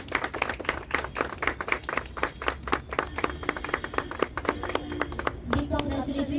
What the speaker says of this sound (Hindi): जोरदार तालियों से मैम का स्वागत करिए और उनकी हौसले को बढ़ाएं।